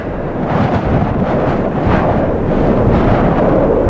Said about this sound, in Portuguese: O vento leva os cristais de neve por sobre a terra.